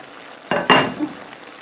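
Smoked beef sausage simmers with vegetables in a skillet, giving two sharp bursts of sizzling and bubbling that flare up close and loud, then fade back to a quiet simmer.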